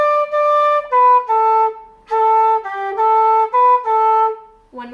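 A traditional tune phrase on flute at a trad music workshop, a run of about a dozen short, articulated notes played close and bright, with brief breaths between groups and no talking.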